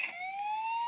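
A toy fire truck's electronic siren gives one steady, slowly rising wail, close and clear with nothing else around it.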